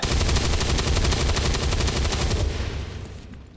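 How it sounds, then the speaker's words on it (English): Sustained heavy automatic gunfire destroying an objective in XCOM 2, loud rapid shots rattling for about two and a half seconds before tailing off into a fading echo. "Now we just destroy the objective."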